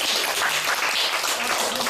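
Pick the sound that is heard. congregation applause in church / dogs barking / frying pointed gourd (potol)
congregation applause in church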